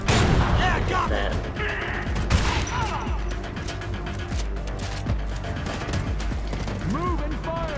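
Dense gunfire from a firefight in the shooter Homefront: The Revolution, loud and continuous with bursts and impacts, layered with game sounds and a voice speaking over it.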